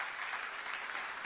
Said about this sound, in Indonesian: Beri tepuk tangan untuk kemuliaan nama Tuhan.